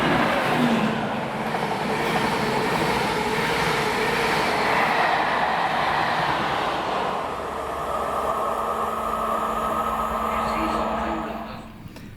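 A train rumbles past on a Scottish railway line, a steady, loud roar with rolling wheel noise that holds for most of the clip before easing and fading away at the end.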